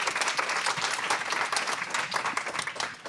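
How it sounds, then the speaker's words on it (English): Dense audience applause at a startup feedback event, a continuous wash of many hands clapping close and steady throughout. "Let's give Ula a big round of applause."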